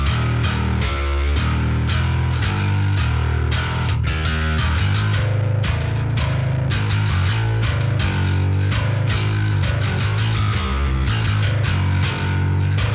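Heavy distorted bass guitar through an even more aggressive Quad Cortex preset, loud and sustained with punchy, rhythmic riffing and sharp picked attacks running throughout without pause.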